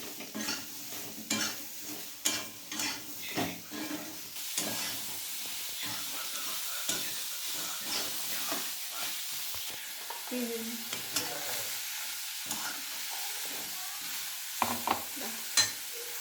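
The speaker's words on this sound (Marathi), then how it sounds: "कांदा भाजून घेते आता खरपूर चांगला" Chopped onion frying in a pan while being stirred, a close hissing sizzle broken by repeated scraping strokes of a spoon, with short pauses between bursts of stirring.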